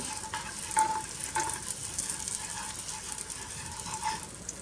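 Jaggery melting into a burnt butter sauce in a pan while being stirred quickly, giving a steady close sizzle with light scraping strokes throughout and no talking.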